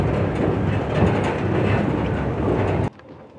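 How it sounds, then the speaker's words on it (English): A passenger train travels east across Russia toward Ekaterinburg, heard from on board as a steady, loud rumble and rattle of wheels on rails that drops off abruptly near the end. "as we travel eastward on the train to Ekaterinburg"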